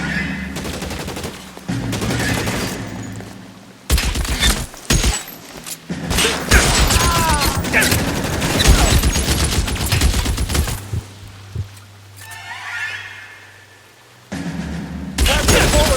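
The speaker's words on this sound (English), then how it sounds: "That's a bullet" A shootout in the game LA Noire, with repeated bursts of close, loud gunfire and rapid volleys, broken by quieter pauses and thuds.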